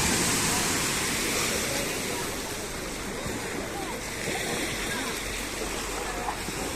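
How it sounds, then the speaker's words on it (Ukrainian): Sea waves roll in and break on a beach, a broad continuous rushing and splashing wash that stays loud and close, swelling slightly as one surge follows another. "Дві такі хвилі. О, так, це хвилі."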